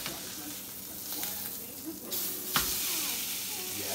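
Tilefish fillet frying in a pan gives a steady close sizzle and hiss, with a brief clatter and a sharp burst partway through.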